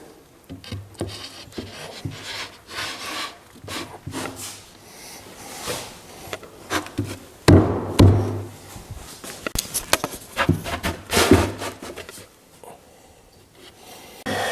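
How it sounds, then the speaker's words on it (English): A wooden shelf is slid and fitted into a small wooden bookcase, with irregular rubbing, scraping and knocking of wood on wood, close by, in bursts that grow louder toward the middle, no voices. "Now I'll take my shelf and put it in here."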